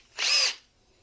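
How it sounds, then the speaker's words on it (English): A power drill fitted with a brad bit bores through a plastic toy case in one brief, loud, close whine lasting about half a second, then falls to quiet. "just going to drill through both this case and the outer case and project out with a hole large enough to run these two wires through"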